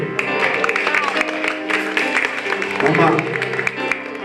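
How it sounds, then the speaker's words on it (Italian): An audience claps loudly for all the parents during a live performance, the applause mixing with music and a voice speaking over it throughout. "facciamo un applauso forte a tutti i genitori"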